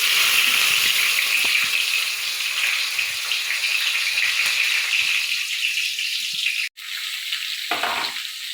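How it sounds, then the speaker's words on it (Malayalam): Mustard seeds spluttering in hot oil with onion, curry leaves and dried chilli frying in a pan, a loud, steady sizzle with crackling pops throughout and a brief break near the end. "കടുക് പൊട്ടി ഉള്ളിയും കറിവേപ്പിലയും വറ്റൽമുളകും കൂടെ മൂപ്പിക്കുക."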